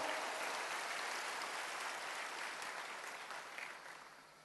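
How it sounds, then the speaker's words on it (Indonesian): A church congregation applauds with loud, sustained clapping from many hands, filling the room and gradually tapering off toward the end. "Tepuk tangan bagi Allah kita."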